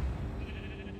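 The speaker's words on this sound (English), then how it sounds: "It's a sheep saying hi or saying ah." A baby sheep in the Minecraft video game bleats in one continuous, fairly loud cry lasting about a second, with no talking over it.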